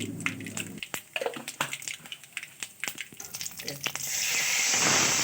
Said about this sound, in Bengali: এবার কড়াইতে পরিমাণ মতো তেল দিলাম আর 5 ফোড়ন দিলাম, 2টো শুকনো লঙ্কা আর কালো জিরে